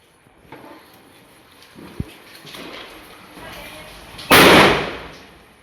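A loud Diwali firecracker burst erupts near the end after a fizzing lead-up, with a small pop earlier and faint background noise.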